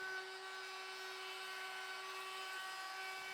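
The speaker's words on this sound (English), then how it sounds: "use a chamfer bit on my router and add a small chamfer to each of the edges" A router fitted with a chamfer bit cutting the edges of a wooden planter board, a steady high-pitched whine held evenly throughout, moderately loud with no talk.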